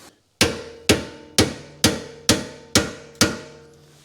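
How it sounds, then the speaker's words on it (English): Seven sharp metallic hammer blows drive a seized bolt out of a car's rear control arm. The strikes land at a steady rhythm, each ringing briefly, loud and close with no talking. "we just got to hammer that bolt out"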